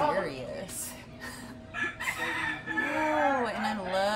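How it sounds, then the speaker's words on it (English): A lavender Orpington hen at a small-animal auction chatters in a run of clucks and drawn-out, wavering calls. She is close and fairly loud, and a voice talks quietly in the background at one point. "Oh, I love a little chatty hen."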